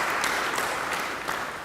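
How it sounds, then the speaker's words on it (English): Brief burst of audience applause for a participant at an introduction session, steady clapping from a group at close range filling the whole moment, with no talking over it. "Give her a round of applause."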